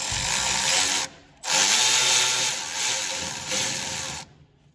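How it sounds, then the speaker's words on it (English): Cordless battery impact wrench tightening bolts on a Först TR8 D55 wood chipper, two loud sustained bursts of whirring and hammering separated by a short pause, close up with no voices. "I know I'm using a battery wrench at the moment"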